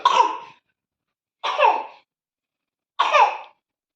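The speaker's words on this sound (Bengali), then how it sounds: "ওই যে একটু কাশি হয়েছে" A person coughs three separate times indoors, each short dry cough spaced about a second and a half apart and standing alone in silence.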